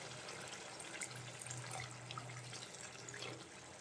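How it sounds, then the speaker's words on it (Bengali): Boiling hot water poured into a pot of braised buffalo meat being cooked bhuna style, giving a steady, fairly quiet splashing and gurgling stream for several seconds with no one talking. "পানি দিয়ে দেব। আবারও আমি এখানে ফুটন্ত গরম পানি নিয়েছি।"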